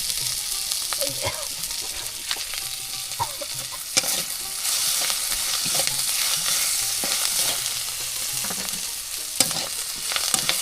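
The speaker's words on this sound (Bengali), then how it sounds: "পেঁয়াজ আর মরিচগুলো একটু ভালো করে ভেজে নিই" Onions and chilies frying in a pan over a village clay stove, a dense steady sizzle with scattered scraping clicks of a spatula stirring, close and continuous throughout.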